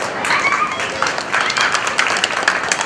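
An audience claps at the Swathi dance and music festival, a dense, steady wash of applause filling the hall for a few seconds with crowd murmur mixed in.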